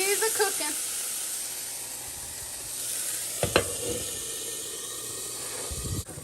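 Salmon frying in a pan gives a steady close hiss of sizzling, with a couple of brief clatters as the fish is handled and some quiet talking at the start.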